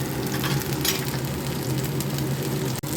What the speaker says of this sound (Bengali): দেখো কি সুন্দর লাল করে ভাজা করে ফেলেছি